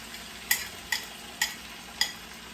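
Eggs are stirred into vegetable fried rice frying in a pan, giving a soft, steady sizzle. Four sharp scraping clicks of a utensil against the pan come at roughly half-second intervals, and no one speaks.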